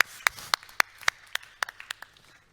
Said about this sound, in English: That deserves an applaud as well.